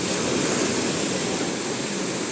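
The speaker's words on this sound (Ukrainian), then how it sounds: "І дійшла до моря, а тут отакі хвилі." Large sea waves breaking on a beach in Albania, a steady, loud wash of surf with constant roar and hiss filling the whole stretch, no voices.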